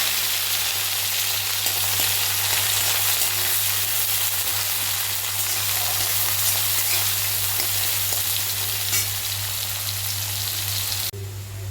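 Chopped onion fries in hot mustard oil with whole cumin, chilli, clove, cardamom and bay leaf, giving a steady, dense, close sizzle throughout with no pause and no talking.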